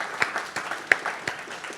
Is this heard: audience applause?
yes